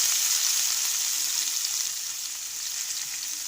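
Steady, bright sizzling of onions frying in oil, a continuous hiss close up with no voices.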